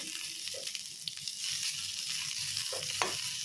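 Onion, green chilli and ginger frying in oil, a steady soft sizzle with a few light stirring scrapes and taps throughout, fairly quiet and close, no talk.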